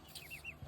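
Newly hatched ducklings peep from a backyard brood in the province, three quick rising high-pitched calls in a row, close and fairly soft, with a faint low thump near the end.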